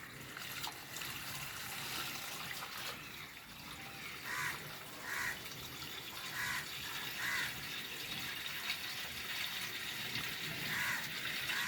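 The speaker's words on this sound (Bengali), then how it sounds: "পুরো জল দিয়ে গামলাটাকে ডুবিয়ে দেবো আস্তে করে" Water gently sloshes and trickles as the pot of an Indian banyan bonsai is slowly lowered into a tub of water; the sound is soft, steady and close, with faint bubbling bursts.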